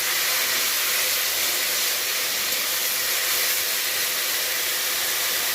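Jute leaves with turmeric and salt sizzle in a hot pan as a dense, even hiss, close and steady throughout with no breaks, and nobody speaks.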